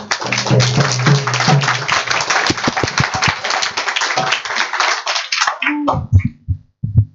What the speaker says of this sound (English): I must applaud them.